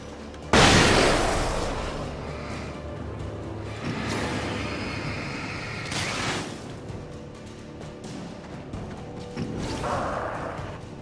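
A grenade goes off in the video game Alan Wake with a sudden loud boom, followed by a rumbling tail and further duller impacts and crashes later on, with no voices heard.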